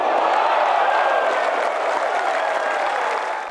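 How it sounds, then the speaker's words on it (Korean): A large golf gallery at the BMW Championship cheers and applauds Tiger Woods's approach shot on the par-4 18th hole, a broad steady roar of crowd noise and clapping that fades slightly at the end. "구름 갤러리가 환호합니다"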